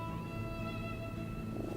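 A cat purring steadily while being petted in a video game, a soft continuous rumble with a faint tonal hum over it, close and alone.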